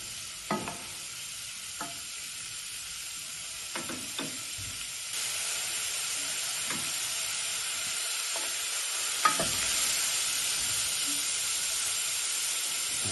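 Onions and peppers fry in a pan for a vegetarian chili, giving a steady sizzle and hiss close by, broken by several sharp scrapes and knocks of stirring, the sizzle growing a little louder partway through.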